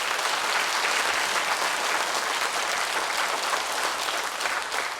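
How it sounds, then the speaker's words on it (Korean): A lecture audience gives a big, sustained round of applause, dense and steady throughout, with no voices on top. "이분들께 한번 큰 박수 한번 쳐주시겠습니까?"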